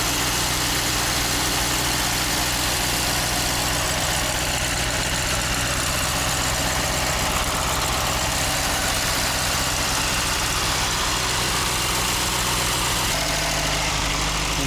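An old car engine, abandoned for thirty years, idles steadily and loudly throughout with a constant low rumble and vibration, close by and with no talking.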